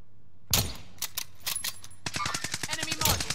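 Rapid automatic gunfire in the video game Modern Warfare, two quick bursts of close, loud shots separated by a short pause, with faint voices behind.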